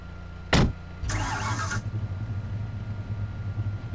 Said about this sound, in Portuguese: Ele vai dar partida no veículo.